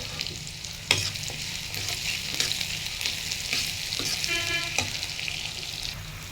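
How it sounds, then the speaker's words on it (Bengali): Onion and garlic fry in a pan with cumin and bay leaf for a taro-leaf dish, a continuous close sizzle with intermittent stirring scrapes and light clinks of a utensil. "এখন একটু পেঁয়াজ রসুন সুন্দর করে ভেজে নিব"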